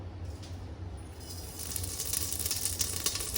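Cumin seeds hit hot oil in a pan for a low-budget one-pot meal, giving a soft hiss and sizzle that swells and crackles more brightly after the first second, with a low steady hum beneath.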